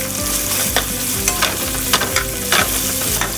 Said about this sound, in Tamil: ஒரு வெஜிடபிளாக போட்டு ஸ்டர் ஃப்ரை மாதிரி பண்ணிக்கோங்க.